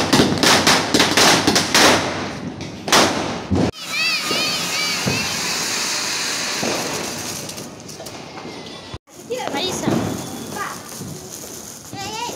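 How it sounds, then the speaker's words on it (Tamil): Firecrackers burst in a quick string of loud cracks, then sharper pops follow amid whistling and excited children's voices nearby. "நாங்களும் பசங்களும் பட்டாசு வெடித்தோம்."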